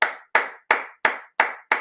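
Six sharp hand claps in a steady, evenly spaced rhythm, close and clear with no talking.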